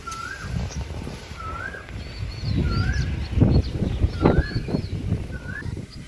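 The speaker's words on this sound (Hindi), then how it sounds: "ये पे हमेशा कोयल, चिड़िया और बहुत सारे पक्षी आके बोलत रहेला।" Birds calling from a mango tree near a rooftop in a Bhojpuri-speaking home, including an Asian koel, with repeated rising whistled calls at steady intervals over a busy background of nearby activity and clatter.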